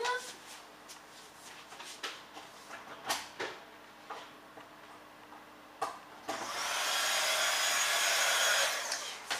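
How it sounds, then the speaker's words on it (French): A kitchen range hood fan roars in a home kitchen while soup cooks, rising to a loud steady whoosh in the final few seconds after intermittent clicks and knocks, with a voice heard faintly earlier. "J'espère qu'on n'entend pas trop la hotte de la cuisine parce que je suis en train de faire de la soupe"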